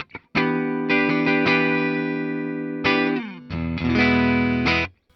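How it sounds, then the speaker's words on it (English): Warm, full electric guitar notes and sustained chords with a thick, rounded tone and light grit from the neck humbucker pickup of a triple-humbucker Yamaha Pacifica partscaster, ringing out before a final strum fades. "let's see how the volume roll-off works on our neck pickup"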